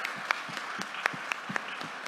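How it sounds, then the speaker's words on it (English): Audience applause at a senior class presentation evening, a brief spatter of scattered claps with a few sharper hand strikes standing out, fairly soft and thin as if from a small crowd. "Another round of applause for the team."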